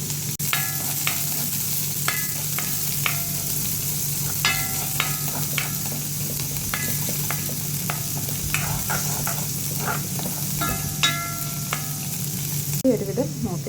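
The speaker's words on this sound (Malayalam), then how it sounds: "കുറച്ച് വെളുത്തുള്ളിയും ചുവന്നുള്ളി അരിഞ്ഞിട്ട് നോക്കിക്കാം." Chopped garlic and shallots fry in a pan for a Kerala buttermilk curry, producing a continuous close sizzle with repeated scraping and tapping of a stirring spoon, fairly loud throughout.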